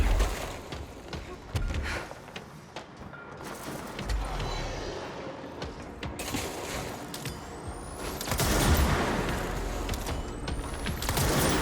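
Gunfire in the video game Control, bursts of rapid shots and impacts against walls, loud and dense, rising in intensity toward the end, with mechanical clatter between volleys.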